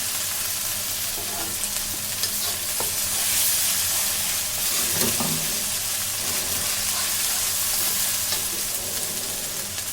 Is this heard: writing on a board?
no